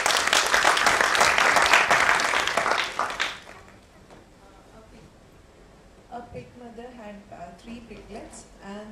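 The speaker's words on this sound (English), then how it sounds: "Round of applause to the volunteer team." Conference audience at an Agile Kerala 2013 talk applauding the volunteer team, a loud burst of clapping for about three seconds that quickly fades, followed by a presenter talking.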